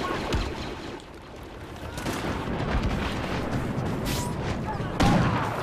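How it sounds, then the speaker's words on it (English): Impact grenade blast in a Star Wars Battlefront Drop Zone match, a loud sharp burst near the end amid dense ongoing blaster fire and booming battle noise, with no voices. "Impact grenade."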